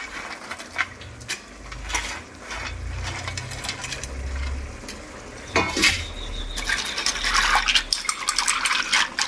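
Fried fish pieces are rinsed in water in a metal pot, with close clattering, scraping of vessel against vessel and intermittent splashing and sloshing, no talking.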